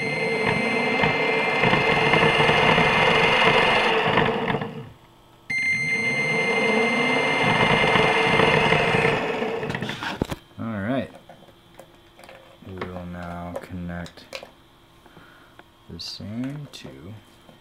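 An asymmetric electric motor spinning as a generator gives a loud steady whine with bright tonal lines, cut by one short drop, then stops; afterward someone talks over faint ticking.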